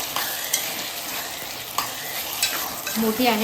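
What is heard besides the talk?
prawns being stir-fried in a pan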